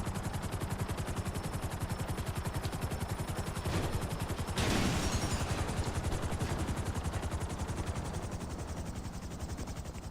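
Rapid gunfire in GTA 5 Online, a dense stream of repeated shots running the whole time, with a louder burst near the middle and the firing thinning slightly toward the end; no voices.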